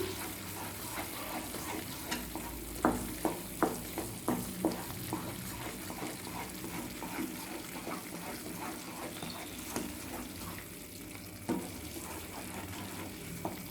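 Organic jaggery being stirred into milk in a pan for milk peda, a soft continuous simmer with a series of clear spoon scrapes and taps, moderately close.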